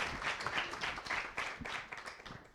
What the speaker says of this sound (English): Let's have a big round of applause for Sandhya, guys.